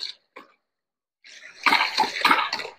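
Water gushes from a farm water pump under pressure, a loud splashing rush building after a few brief bursts and a quiet gap, close to the listener.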